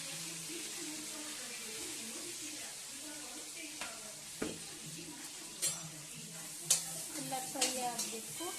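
Onions and spices fry in a pan for avalakki with a quiet, steady sizzle, and a few sharp utensil clinks and scrapes come in the second half. Someone speaks faintly underneath.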